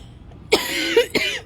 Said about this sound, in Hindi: मेरे को खांसी ऑलरेडी छिड़ रही है